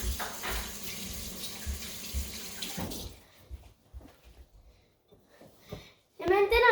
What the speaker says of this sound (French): laver sa main.